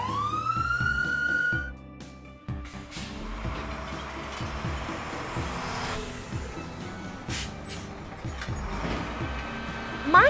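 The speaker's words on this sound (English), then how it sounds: "Monster police car." A toy police siren wails briefly at the start, then gives way to a steady mechanical hum with rattling and faint clicks.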